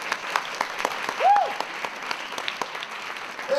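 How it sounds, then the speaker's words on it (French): Scattered audience clapping at a cosplay contest in a large hall: a steady patter of hands at moderate loudness, with faint background sounds throughout. "Merci, on peut l'applaudir."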